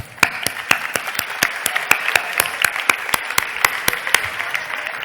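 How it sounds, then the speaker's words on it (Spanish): Clapping from an audience at the San Mateo festival presentation in Monzón, a crisp, close patter of hands with distinct individual claps, loud and continuous with no voices over it. "Eso sí que merece un aplauso."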